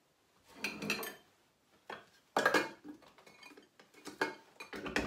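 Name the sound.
knife cutting onions on a board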